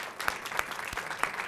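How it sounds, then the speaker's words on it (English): A short spell of audience clapping for the judges at a school reading competition final, a moderate, fairly even patter with a few sharper individual claps standing out. "a round of applause for these gentlemen for coming here today"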